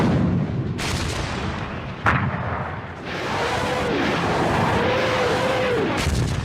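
Artillery fire in a WWII documentary about the Siegfried Line and the December offensive against American forces: loud, close booming shots with a sustained rumble and a thin whistling tone between blasts.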